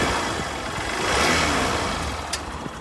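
A 2012 Honda CBF 125 motorcycle engine runs at a steady, smooth idle with a slight swell midway, its soft even drone heard close and alone.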